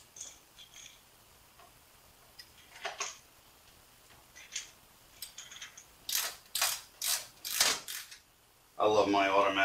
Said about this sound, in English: I love my automatic screwdrivers